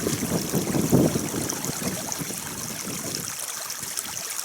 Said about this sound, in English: Little creek going into the TP Creek.